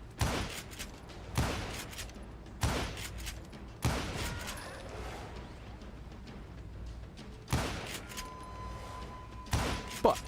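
Pistol shots in the video game Call of Juarez: Gunslinger, about seven sharp reports at uneven intervals of roughly one to four seconds, fairly close over a low ambient bed.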